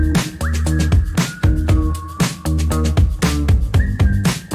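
A melodic whistled line glides over a full pop track with steady drums and bass, loud and upfront, from a song on a debut album.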